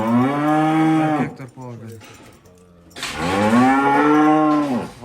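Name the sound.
cattle mooing, cows with calves at a livestock sale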